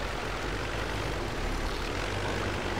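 Tractor engine in the off-road driving game Spintires: MudRunner, a constant heavy droning rumble with no talk, steady and moderately loud for the whole stretch.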